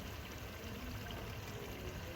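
Water splashed into a pan of frying masala gravy for beef and egg kofta curry, a steady close pouring, trickling wash with a faint sizzle beneath, continuous throughout.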